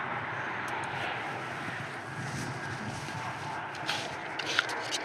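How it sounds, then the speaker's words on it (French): An EasyJet airliner takes off at Paris-Charles de Gaulle airport, a distant, sustained jet roar with wind buffeting and a few faint clicks and knocks nearby. "Les EasyJet au décollage, c'est parfait."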